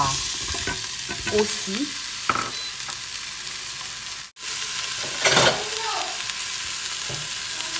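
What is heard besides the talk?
stirring spices frying in a pot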